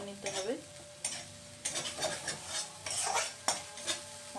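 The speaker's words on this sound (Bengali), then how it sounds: "জিরে গুঁড়ো দিয়ে মশলাটাকে আবার ভালো করে একটু নাড়াচাড়া করে নিতে হবে।" A spatula stirs and scrapes spice paste with ground cumin frying in a wok, bursts of scraping between a low sizzle, up close and alone, with no one talking.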